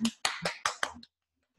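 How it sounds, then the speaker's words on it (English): Five sharp hand claps in a steady, fairly quick rhythm during a breathing and tension-release exercise, close and moderately loud, followed by silence. "Keep on clapping."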